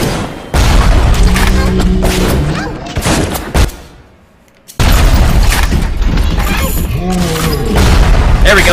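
Rocket turret fire in the game BioShock, with loud booming blasts and explosions overlapping in dense, chaotic bursts, a brief lull partway, then another heavy barrage of rumbling detonations and mechanical clanks.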